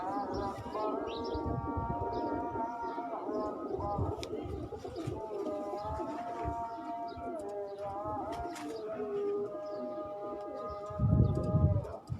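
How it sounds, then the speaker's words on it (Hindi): Pigeons coo repeatedly on a rooftop loft of racing pigeons, soft throaty calls close by, while a long melodic chanting voice carries over them in the background. "ये जी वो कबूतर है"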